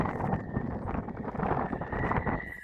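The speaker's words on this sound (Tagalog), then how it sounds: "It's so windy over here." Strong wind on Sugumsan mountain, South Korea, buffets the microphone with a constant rough roar, a faint high whine running through it.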